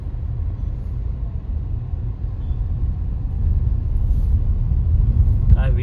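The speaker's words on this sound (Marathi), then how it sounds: "ही आमची टेम्पो पुढे चालली ती." Steady low engine rumble and road noise from a tempo van driving along a road in traffic near Alibag beach, close and continuous, growing slightly louder toward the end with a brief sharper burst at the close.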